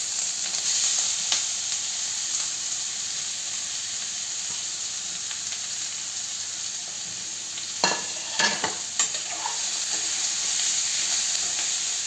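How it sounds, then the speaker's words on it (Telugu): Curry leaves, ginger and grated papaya sizzle steadily in a hot pan, a continuous bright frying hiss with a few stirring scrapes and clatters toward the end. "కరివేపాకు వీటిగా వేసేసుకుని దీంట్లో మనం ఈ కోరుకున్న ఈ తురుము వేసేసుకోవాలి"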